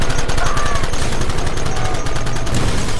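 Rapid, dense gunfire from Red Dead Redemption rattles continuously at close range and high volume, with shots layered over one another throughout.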